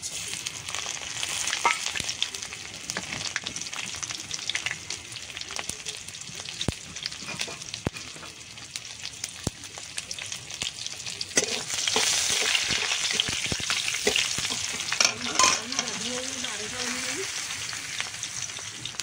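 Dried red chillies and spices fry in hot oil for a leafy greens stir-fry, giving a steady broadband sizzle with scattered crackles and spatula scrapes throughout, close and continuous, with a few faint voice fragments near the end.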